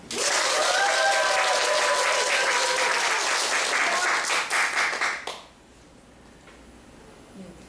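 A studio audience at a televised book talk show breaks into loud, dense applause for about five seconds, then it quickly dies away to a quiet room.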